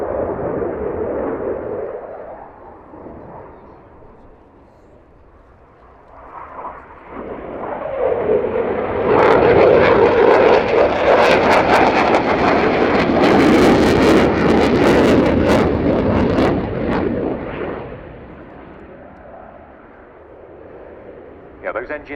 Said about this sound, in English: the power of the two Eurojet EJ200 turbofan engines when they're in afterburner